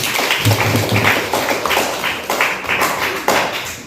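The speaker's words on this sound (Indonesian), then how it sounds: "Ya, tepuk tangan dulu kita semua." Students in a classroom clap together in a loose burst, with distinct uneven claps close by and a faint voice at the start.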